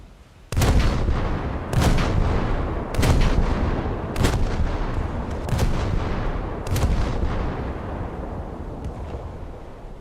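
Warship naval guns boom in a naval video game, six heavy blasts spaced about a second apart, each followed by a long rumbling decay, loud and close with no talking.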